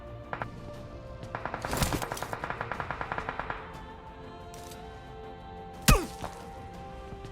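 Gunfire in the PUBG battle royale video game: a rapid burst of about fifteen evenly spaced shots, then a single sharp, loud crack from a sniper-style headshot, with quiet game ambience in between.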